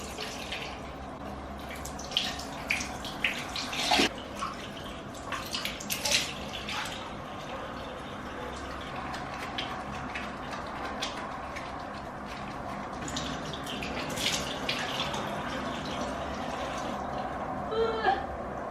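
Tap water runs steadily into a sink during face washing, with irregular splashes and drips over a continuous faint rushing, plus scattered small knocks; a voice talks faintly now and then.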